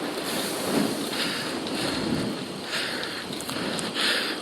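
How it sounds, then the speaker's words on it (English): Steady wind rushes and buffets the microphone during an outdoor bike ride near the water at Tommy Thompson Park in Toronto on a sunny afternoon. The roar is loud and continuous, with no voices. "there definitely is some wind still going"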